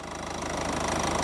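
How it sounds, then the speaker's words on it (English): A car engine idles right after starting during an air-conditioning recharge, giving a steady, close, loud mechanical rumble with a fast even knocking pulse and no talk. "Let's get the engine running."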